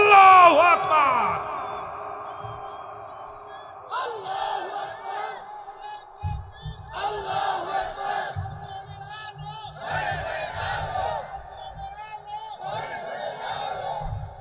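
A crowd at an Islamic sermon gathering in Bangladesh answers with loud collective shouts, likely "Allahu Akbar," in repeated bursts across the clip after a preacher's amplified voice.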